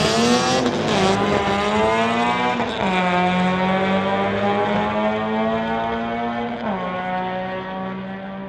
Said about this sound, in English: BMW in the Lordco lane going against the Honda Civic